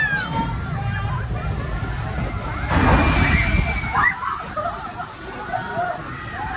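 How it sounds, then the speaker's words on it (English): Water sloshes and splashes continuously at the Tidal Wave water ride in Thorpe Park, a theme park setting with a crowd murmuring in the background and a brief louder surge of water partway through. "Here we are at Tidal Wave. This is a few of the water rides here at Thorpe Park"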